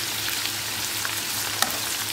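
Eggplant and mixed vegetables fry together in a pan with a steady, close sizzle, broken now and then by a brief stirring scrape and a sharp pop.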